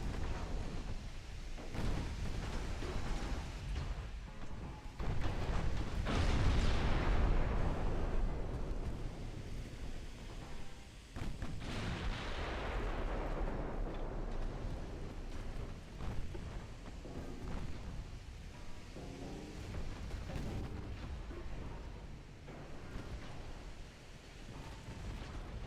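Naval cruiser gunfire in the warship strategy game Ultimate Admiral Dreadnoughts, with rolling booming blasts and shell impacts on ships repeating over a constant roaring, wind-like background, loud and dense throughout.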